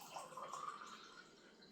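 Arizona x Mike's Hot Honey drinks being poured out of their containers, a faint, close liquid trickle and splash that tapers off.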